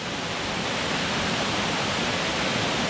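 A waterfall running high after rain in early spring gives a steady, dense, full-band roar, loud and constant with no voices.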